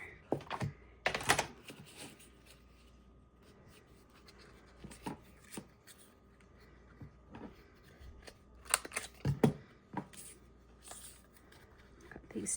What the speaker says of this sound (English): I cut off the edge here.